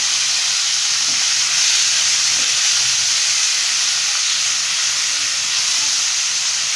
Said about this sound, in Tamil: இப்போ தக்காளி வந்து நல்லா வணங்கட்டும்.